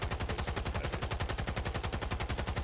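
A light machine gun in Cyberpunk 2077 fires a long, steady automatic burst, rapid evenly spaced shots hammering without pause, loud and close with no voices over it.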